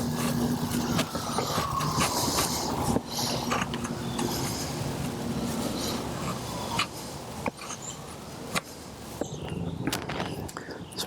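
A Gurkha kukri knife scraping and carving shavings from a piece of fat wood, with repeated close scratchy strokes and sharp clicks in an irregular rhythm and no talk.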